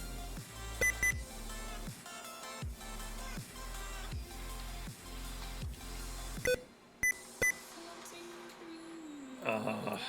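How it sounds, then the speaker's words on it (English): An electronic device beeps repeatedly in short sharp tones, with pauses and a few louder beeps toward the end over a steady background hum. "No, we're not dealing with the beeping all night."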